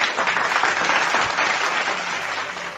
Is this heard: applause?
yes